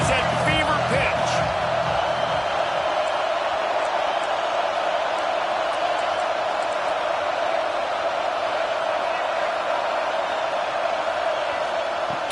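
A football stadium crowd roars at fever pitch during a third-down play in the red zone, a dense and continuous wall of cheering that stays loud and steady throughout.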